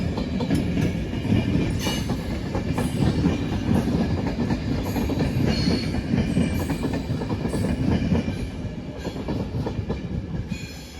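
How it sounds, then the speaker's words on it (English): Intercity train from Évora rolling across multiple sets of points into a station on Portugal's Linha do Sado, a steady loud rumble with rhythmic wheel clatter and faint squeals running throughout. "this intercity train coming from Évora as it crosses multiple tracks to enter the station"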